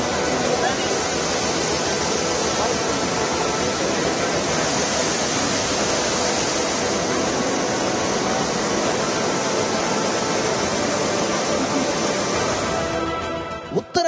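The Alaknanda river in flood at Rudraprayag, Uttarakhand, roars as a dense, steady broadband rush of torrential water, loud and continuous throughout before cutting off abruptly at the end.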